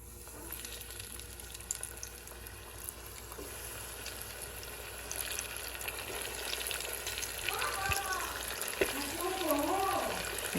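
Chicken wings deep frying in hot oil give a steady, quiet, even sizzle throughout, with a few faint clinks and a brief tonal sound near the end.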